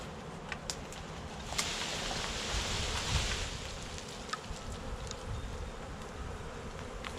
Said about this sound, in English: see how they're like sticking their butts up in the air and they're fanning their wings?